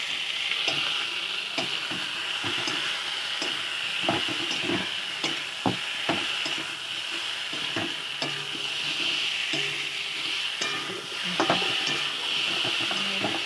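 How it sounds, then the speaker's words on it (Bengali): Kuche fish (eel) being stirred in a frying pan gives off a steady close hiss of sizzling oil, cut by repeated scraping and knocking strokes of a spatula against the pan, with no talking. "তারপরে কুচে মাছ দিয়ে দিলাম। এবার একসঙ্গে একটু নাড়া হবে।"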